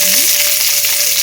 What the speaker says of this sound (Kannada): ಈರುಳ್ಳಿ ಹಾಕ್ಕೊತೀನಿ.